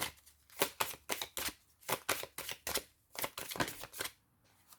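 Angel oracle cards being shuffled close up, a quick run of crisp riffling bursts in an uneven rhythm, loud and clear with no voice over them.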